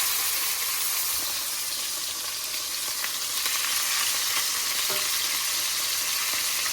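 A tomahawk steak sizzles in a hot cast-iron pan, a steady, dense frying hiss that holds evenly throughout with small pops and crackles scattered across it, and no voices.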